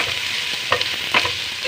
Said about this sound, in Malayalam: അതൊന്ന് വഴറ്റിയിട്ട് അതിനകത്തോട്ട് പച്ചക്കറി ഇടും.